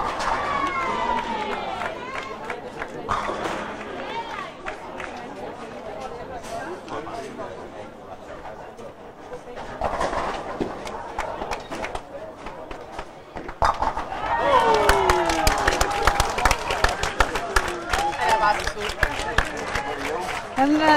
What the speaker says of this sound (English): the crowd are going a little bit wild here